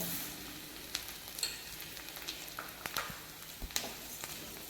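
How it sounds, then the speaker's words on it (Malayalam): Flattened rice (aval) tossed and stirred in hot ghee in a pan, giving a soft, steady sizzle with scattered light scraping clicks from the spoon, fairly quiet and with no voices. "ഇനി ഈ ഒരു നെയ്യിലേക്കാണ് നമ്മൾ എടുത്തു വച്ചിട്ടുള്ള അവൽ ഒന്ന് ചൂടാക്കി എടുക്കേണ്ടത്"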